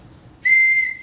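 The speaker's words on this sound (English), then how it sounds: "It's a rattle and a whistle that works." A handmade toy whistle that also works as a rattle, giving one clear, steady high-pitched toot of about half a second that starts sharply after a brief quiet moment.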